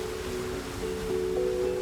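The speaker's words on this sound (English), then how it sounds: "The aerators float out in the pond, and they have a 10-horse motor, and they churn the water to put oxygen in the water." Floating pond aerators driven by 10-horsepower motors churn the water at a fish farm, giving a continuous rushing, splashing wash with a steady mechanical hum underneath. No one speaks over it.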